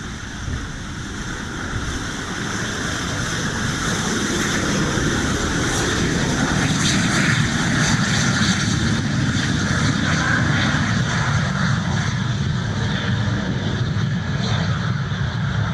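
An L-39 Albatross jet, an old classic military trainer, roars steadily nearby at an airfield in Fairhope, Alabama, its broad engine rumble and hiss loud and continuous throughout.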